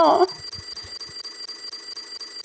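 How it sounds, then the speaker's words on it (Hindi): An alarm clock rings from a bedside, a steady electronic beeping that repeats in an even rhythm, close and continuous, with a brief voice at the very start. "उठो, अलार्म बज रहा है।"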